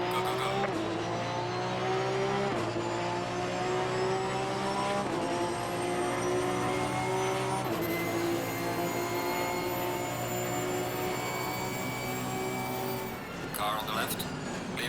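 Race car engines roar continuously in Assetto Corsa Competizione multiplayer, a steady droning whine with gear-shift steps, while a voice talks over it.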